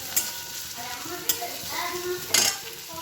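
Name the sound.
onions frying in a pan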